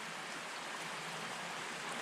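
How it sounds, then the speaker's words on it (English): Steady broadband rush of a creek pouring into a river, with water flowing continuously at a moderate, even level and no voices. "This is where the creek meets the river."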